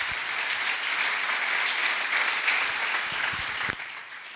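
A crowd applauds steadily at an evening talk on charity and migration, welcoming a priest to the podium; dense, even clapping holds for about four seconds and then thins out toward the end.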